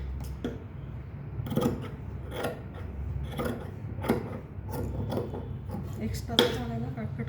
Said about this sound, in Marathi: एक्स्ट्राचा भाग आहे ना कट करून टाकायचं.